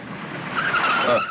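A car brakes hard in a Hindi action film, its tires squealing and skidding to a stop in a loud, continuous screech lasting over a second.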